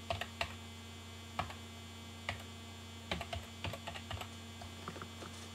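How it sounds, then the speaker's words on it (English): Keys clatter on a computer keyboard in short irregular bursts of clicks, quiet and close, over a steady low electrical hum, with no talk. "And here we're going to type in responsive."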